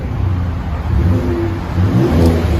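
A Ford Raptor 3.5L EcoBoost V6 with a Magnaflow exhaust, revving loud and close in a deep, rumbling rise that surges again near the end.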